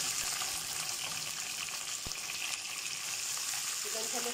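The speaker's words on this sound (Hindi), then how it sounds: "अब मैं इसमें चिकन डाल दूँगी।" Chicken goes into hot oil with browned garlic for a dry chicken tikka, giving a soft, steady frying sizzle with one sharp click partway through, fairly quiet and with no talk.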